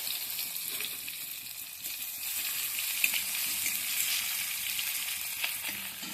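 Mustard seeds and chopped tomato fry in hot oil for sabu khichdi, giving a steady, moderate sizzle that holds for several seconds with faint pops and no talking.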